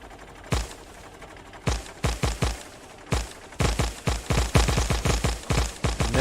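Tank guns firing at a biter nest in Factorio, loud bursts of rapid shots in irregular clusters, with short pauses between volleys.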